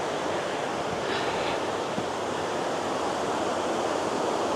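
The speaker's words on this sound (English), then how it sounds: "the water flowing down there, as we get a bit closer, you can see that water down there. That's leading on to Purakaunui Falls." Water flowing over rocks toward Purakaunui Falls makes a steady, broad rushing roar with no pause, heard from some distance above the stream.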